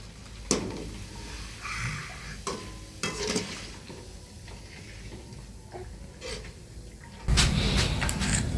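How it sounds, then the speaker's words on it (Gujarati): Bhungla fry in hot oil for sevdo: intermittent knocks and clatter of utensils, then a burst of dense, steady sizzling near the end. "ભૂંગળા તળાવવાનું ચાલુ થઈ ગયું છે"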